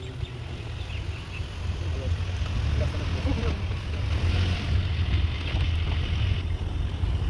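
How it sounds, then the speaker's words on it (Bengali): Steady wind buffeting the microphone during an outdoor bike ride, a constant low rumble that stays loud and unbroken throughout. "ভীষণ সুন্দর হাওয়া হচ্ছে"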